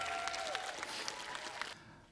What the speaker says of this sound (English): If we could all give a round of applause to our 18 coalitions